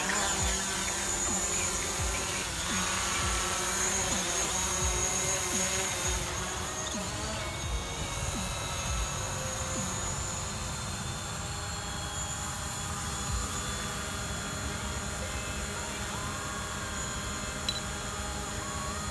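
A DJI Mavic Pro drone hums with a continuous, high buzzing whine of its propellers as it takes off and flies close by, steady and fairly loud throughout.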